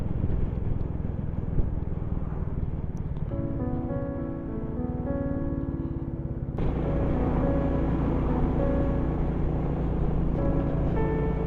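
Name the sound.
Royal Enfield Classic 350 motorcycle riding on countryside roads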